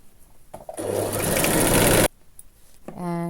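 An electric sewing machine runs one steady burst of stitching along a puffed sleeve seam for just over a second, loud and close, with brief mechanical clicks before and after and a voice speaking nearby.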